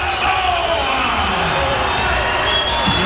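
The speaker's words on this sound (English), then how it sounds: "Another great reception in front of this crowd filled with so many Cuban fans" A packed crowd of Cuban boxing fans roars and cheers at a professional fight night, a loud, sustained wash of noise with voices talking over it.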